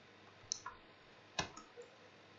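A computer mouse clicks a few times at a desk during a software lesson, sharp isolated taps spaced apart in an otherwise quiet room.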